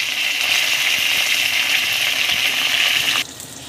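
Curry leaves dropped into hot oil for South Indian lemon rice, with green chillies already in the pan, give a loud, steady, hissing sizzle that cuts off sharply near the end.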